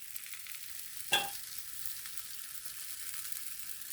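An egg chapati cooks on a hot pan with a faint, even sizzling hiss and a single brief tap partway through, quiet and with no talking.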